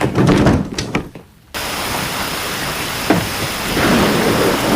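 Heavy rain pours steadily as a dense hiss while a thunderclap and rolling rumble sound near the start, then the downpour continues loud and unbroken.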